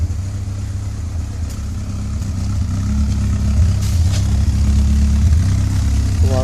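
A 2.0 Pinto engine in a Robin Hood kit car, fitted with a 4-to-1 race manifold, idles with a steady low throb close by, the rumble swelling slightly louder toward the end.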